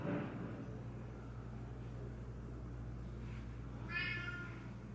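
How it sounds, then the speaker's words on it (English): Cat meowing outside a closed door, one muffled, fairly faint meow near the end over a low steady room hum, with no speech. "my cat is outside the door freaking out"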